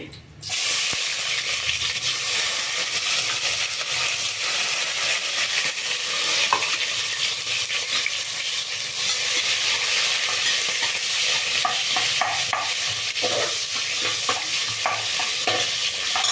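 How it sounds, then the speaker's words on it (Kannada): Onions frying in a pan for soya mint pulao, giving a loud, unbroken sizzle with occasional stirring scrapes, following a brief clatter at the start, and no voices. "ಈರುಳ್ಳಿ ಚೆಂದಾಗಿ ಫ್ರೈ ಆಗಲಿ"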